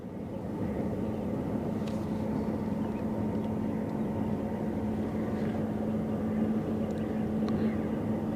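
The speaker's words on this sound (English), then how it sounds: "This is something we don't see every day, a jet boat." A steady, droning jet boat engine roars nearby on the Westerschelde, Netherlands, a constant motor hum with faint water noise throughout.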